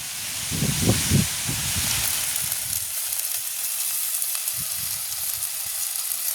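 Peanuts dropped into a hot pan for a curry set off a loud sizzle, with a few soft stirring bumps early on and a constant hiss of frying throughout.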